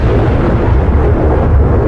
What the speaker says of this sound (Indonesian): Suara bergema setiap kali petir meledak kecil di dalam air